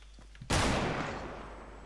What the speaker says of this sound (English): This hunting rifle is so inaccurate.